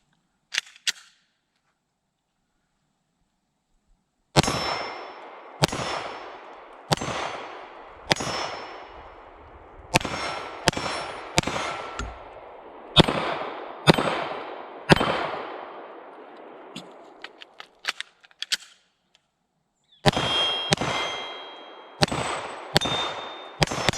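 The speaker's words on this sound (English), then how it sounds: "let's take this bad boy out and ring some steel" Sig Sauer P320 X-VTAC pistol fired at steel targets from about 7 yards, a series of sharp shots, each followed by a ringing metallic clang, in steady strings with short pauses and no talking.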